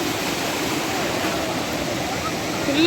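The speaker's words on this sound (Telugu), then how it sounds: "అలలు అప్పుడప్పుడు వస్తున్నాయి" Sea waves at a calm beach wash in with a broad, continuous rushing roar, steady and fairly loud, with faint voices underneath.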